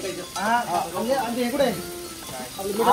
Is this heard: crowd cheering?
no